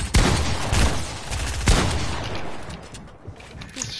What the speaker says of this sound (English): You just SMG spam!